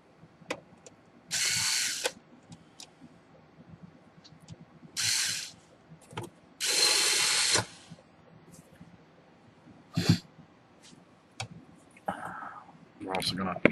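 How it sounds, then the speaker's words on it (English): A power drill driving one or two screws into a fan housing, heard as several short whirring bursts of a second or so each, separated by clicks and handling noise, close by. "I'm just going to put 1 or 2 screws in here so that the fan will activate"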